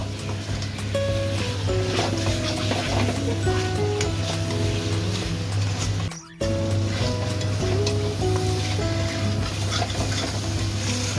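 Boiled mutton is sautéed in a hot pan, a loud, dense, continuous sizzle with stirring and faint tonal clinks and a brief dropout midway.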